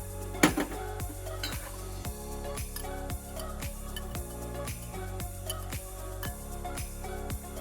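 Onion slices and garlic stirred in hot oil in a skillet for pad thai, giving steady utensil scrapes and clinks against the pan with a repeating rhythm over a soft, continuous cooking bed, close and moderately loud.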